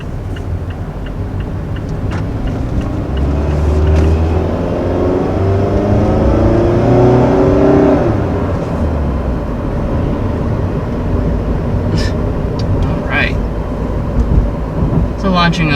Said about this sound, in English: Launching off in the Miata for the first time.